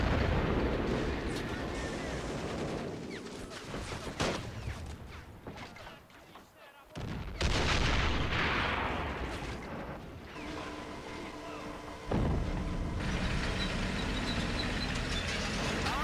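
Call of Duty: World at War 2v2 match: mortar shells and artillery-like explosions boom and rumble repeatedly across the battlefield, heavy and loud, with players talking over the chaos.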